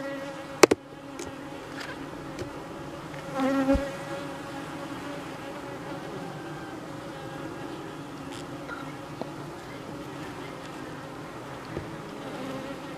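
A steady, dense buzz of many honeybees hums throughout at an opened hive of a colony that swarmed in April, with a few sharp knocks and a brief louder swell of wings near the start.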